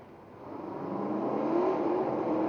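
A Ford Mustang drag racing car at a radial drag racing event revs steadily, its engine tone rising and holding loud and close over about two and a half seconds.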